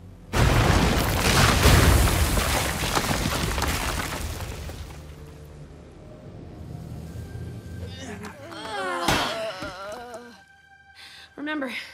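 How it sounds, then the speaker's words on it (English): A huge booming sonic boom from the animated series Transformers: EarthSpark roars and rumbles, slowly fading, followed by warbling vocal sounds and a sharp smaller burst. "Your sonic booms are gonna cause a cave-in!"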